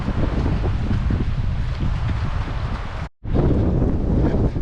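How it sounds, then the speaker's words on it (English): Strong wind gusting around Phelps Lake, roaring steadily against the microphone with heavy low rumble, cutting out for a moment before surging back just as loud. "Wind's picking up around the lake."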